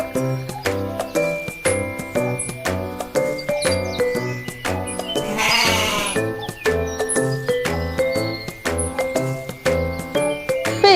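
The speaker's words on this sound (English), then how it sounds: "This one is a goat." A goat bleats amid a busy backdrop of tinkling, jingling toy tones and rhythmic chimes, its cry rising loud and brief near the middle.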